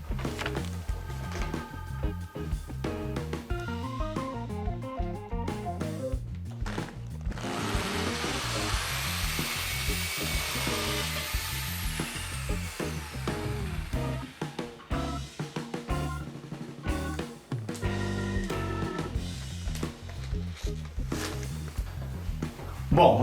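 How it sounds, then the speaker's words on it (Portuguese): An electric drill bores into a cement block wall, a close whirring grind that rises and falls with the pressure over a steady stretch, with brief pauses and a voice speaking near the start. "Então vamos fazer a furação."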